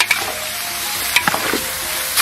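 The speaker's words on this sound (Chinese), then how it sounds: "牛排下锅，弹炒入味，让每块牛排都裹上西红柿的汤汁" Beef steak and tomato stir-fried in a wok over high heat, a steady broadband sizzle with a few sharp scraping clacks of the spatula spread across two seconds, no voices.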